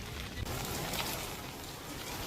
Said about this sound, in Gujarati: વેરાવળમાં ધોધમાર વરસાદ વરસી રહ્યો છે